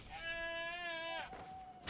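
A sheep in the survival video game Enshrouded lets out a single drawn-out bleat, wavering and nasal, lasting about a second before fading into quiet background.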